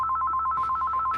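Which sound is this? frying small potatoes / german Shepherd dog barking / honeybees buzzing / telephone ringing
telephone ringing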